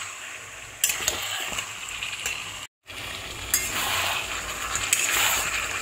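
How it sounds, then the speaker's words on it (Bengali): Chicken pieces sizzle and fry steadily in a hot pan with Kashmiri red chili powder while being stirred for a chicken kosha curry, with occasional clinks of a utensil against the pan and a brief gap of silence midway. "মাংসটা ভালো করে কষিয়ে নিতে হবে।"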